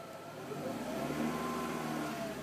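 A 1999 Volkswagen Beetle GLS with 135,000 miles, valve chatter and a rattling heat shield, gets one quick rev: the engine note climbs, holds briefly and eases back, heard close with no talking.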